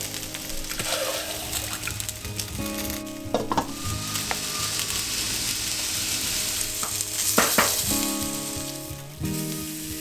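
Eggplant fries in oil in a pan, a loud, close sizzle broken by a few clattering stirs and scrapes, with a brief hiss burst near the end.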